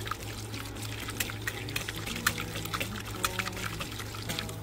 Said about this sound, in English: Now it's gonna bubble up. Let me show you. So this is what it looks like right now in my crock pot.